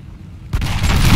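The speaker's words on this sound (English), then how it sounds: "there go the howitzers, they're firing down again" Howitzers fire in a Napoleonic-era battle at Ulm in Napoleon Total War: a single heavy boom hits after a quiet moment, followed by a rolling, rumbling roar that swells and sustains without any talk.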